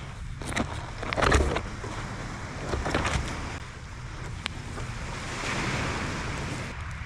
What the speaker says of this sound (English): listening to those waves lapping in on the shore whilst you're keeping warm around a driftwood fire